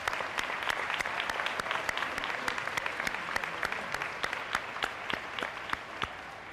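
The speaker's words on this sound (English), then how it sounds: "So let's give them a round of applause." An audience at an elementary school opening ceremony gives a round of applause, steady clapping with distinct individual claps popping out, moderately loud and continuous throughout.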